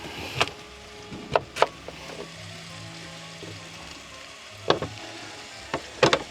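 A knife slices through peeled pumpkin flesh for soup, giving several sharp, separate cuts spread unevenly across the clip, close and fairly quiet in a still room.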